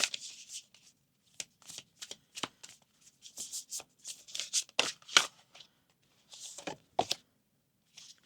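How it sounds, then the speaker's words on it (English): An angel oracle card deck is shuffled by hand in close, papery bursts of riffling and sliding cards, separated by short quiet pauses. "So I'm going to pull a card from here."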